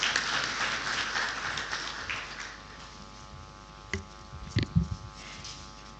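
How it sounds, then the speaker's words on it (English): Audience applause welcomes a speaker to the stage at an equestrian forum, a steady dense clapping that thins and fades over several seconds, leaving a few louder scattered claps and room noise near the end. "A big round of applause, ladies and gentlemen."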